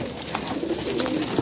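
Pigeons kept for sale in Pakistan coo softly in a short, close burst of low murmuring calls against a busy background.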